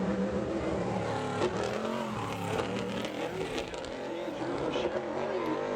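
Number 88 modified race car at Bowman Gray Stadium during qualifying, engine roaring as it laps the short track, with a public-address announcer talking over the steady, loud engine noise.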